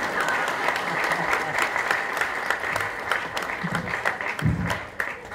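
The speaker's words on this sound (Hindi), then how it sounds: "ये एक्चुअली ताली बजाने का ये टाइम था।" An audience at a spiritual talk claps steadily in a dense, continuous round of applause, loud and close, with a few sharper individual claps standing out and faint voices underneath.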